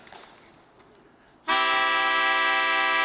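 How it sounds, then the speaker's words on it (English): After a quiet moment, a reedy melodica major chord begins abruptly and holds steady and loud, bright and buzzy, sustained to the end. "A major chord, which sounds like this."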